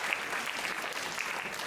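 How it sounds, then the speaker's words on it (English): An audience applauds motivational speakers at a school event at Indian School Al Seeb, a dense, steady wash of clapping that carries evenly through the moment with no voices. "A big round of applause to each one of them."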